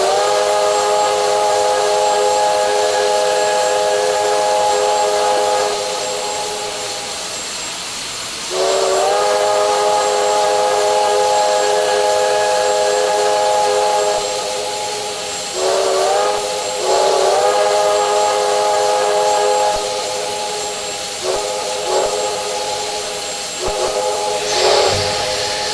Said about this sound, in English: Everybody's favorite part, the whistle.